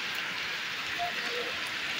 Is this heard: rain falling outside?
yes